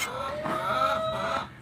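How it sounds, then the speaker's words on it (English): Chickens clucking in a backyard coop during daily maintenance, a steady run of overlapping close clucks and warbling calls that swell in the middle and fade toward the end, with no talking. "we got some chickens coming through"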